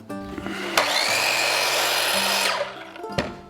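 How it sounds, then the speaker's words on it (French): Wire brush scrubbing hardwood to give it an aged look: a loud, sustained whirring whine holds for about two seconds between sharp clicks at its start and end, close by, with no talk. "les essences les plus dures, je vais les passer à la brosse métallique"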